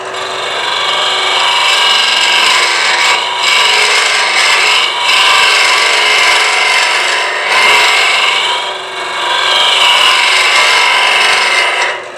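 A woodturning tool cuts into the end grain of a small wooden vessel on the lathe, hollowing and smoothing with a loud, continuous rasping scrape that briefly dips and returns.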